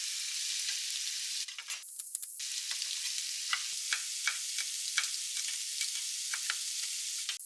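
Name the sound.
thinly cut vegetables frying in a pan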